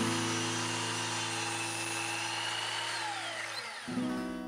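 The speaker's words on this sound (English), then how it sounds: "I cut out the base pieces for the sign using a miter saw and our handy stop block." A miter saw cutting wooden planks for a rustic sign: a steady, loud motor whine that holds for several seconds, then spins down near the end as the blade slows.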